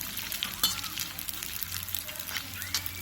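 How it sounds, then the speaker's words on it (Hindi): Edible gum (gond) frying in hot desi ghee in a kadhai over a slow flame, a steady bubbling sizzle with small crackles and pops and a faint clink, close and even. "हमने एक कढ़ाई में देसी घी गरम कर लिया है। अब हम इसमें सबसे पहले फ्राई करेंगे ये गोंद"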